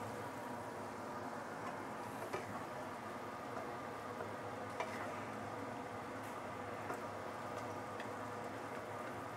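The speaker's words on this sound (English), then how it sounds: "I'm just going to let it simmer for a while" Braised fish in a pan gives a steady, soft bubbling sizzle that carries evenly throughout, with a few faint clinks and no talking.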